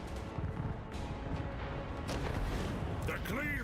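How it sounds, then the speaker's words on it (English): Cannon fire from an Ogre Kingdoms army during a Total War: Warhammer 3 battle, a few dull booms set in a dense wash of battle noise with a shrill whistling sound near the end and speech mixed in throughout. "There we go, cannons."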